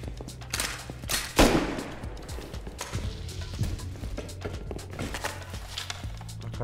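Gunfire from bots in the survival game Rust crackles in scattered shots, one sharp close blast standing out among fainter distant pops and clatter over a low background rumble.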